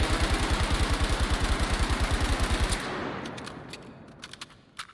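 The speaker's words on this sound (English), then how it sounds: "I'm going to just shoot a couple bullets while I'm aiming" Video game gunfire sprays a wall in a rapid, evenly spaced automatic burst lasting a few seconds. It stops abruptly, leaving a fading tail and a few faint clicks.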